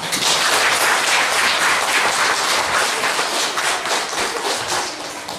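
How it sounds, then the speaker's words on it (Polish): Children in an audience clap together at a welcome event, a loud, dense and continuous patter of applause that stays strong throughout and eases slightly at the end. "Wielkie brawa!"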